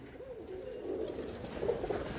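Domestic pigeons coo in low, rolling bursts, nearby and fairly quiet, a pair of throaty phrases standing out over a steady soft murmur.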